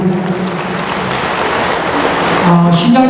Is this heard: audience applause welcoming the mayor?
yes